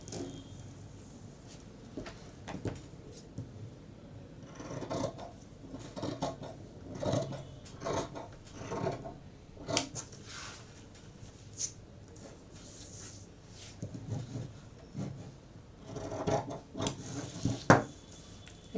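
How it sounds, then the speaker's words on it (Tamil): Scissors cutting a fabric piece for a sleeve, scattered crisp snips and rustling cloth in uneven bursts, close and fairly quiet. "இப்போ இந்த பீஸை கட் பண்ணி எடுத்துக்கிறோம்."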